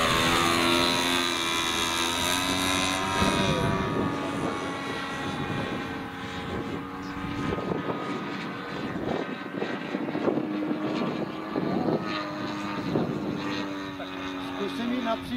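An RC model airplane cruises at minimum throttle during a New Year flying session, its small engine a steady, moderately loud drone with tonal hum and occasional sharper bursts, while someone talks over it.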